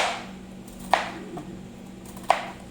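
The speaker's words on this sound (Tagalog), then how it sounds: "Hiwa tayo ng patatas." Knife chopping through potatoes for a kofta bake, two sharp distinct cuts about a second and a half apart against a quiet kitchen background.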